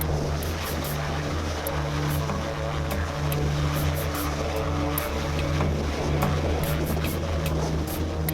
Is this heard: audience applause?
no